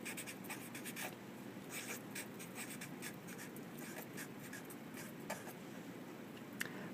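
Pen writing on a paper source card, quiet close-up scratching strokes in short irregular bursts, with a small tap near the end.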